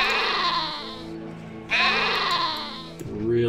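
Sheep bleating in the video game Caesar 3, two loud, close, wavering bleats one after another, with a further shorter bleat rising at the very end.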